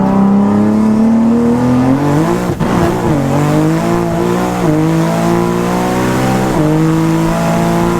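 A tuned BMW accelerates hard and close, its engine note climbing steadily, with a few short dips where gears change before the howl rises again.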